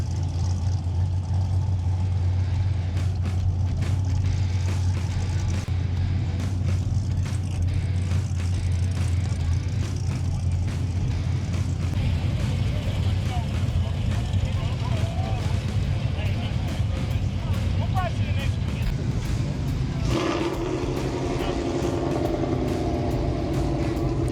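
Cars cruising past during the JeffCo Power Tour, a rolling car show, where a steady low engine rumble and idling lasts throughout and a louder, nearer vehicle arrives near the end.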